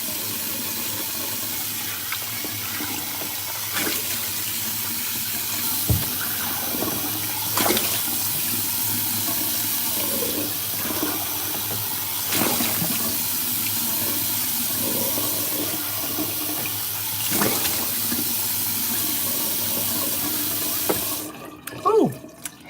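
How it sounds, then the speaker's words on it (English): Tap water runs steadily into a bathroom sink while a face mask is rinsed off at home, a continuous close splash with occasional louder bursts as hands move through the stream, and the flow cuts off near the end. "Let's wash this off. I'll make it quick so that the water's not on for too long."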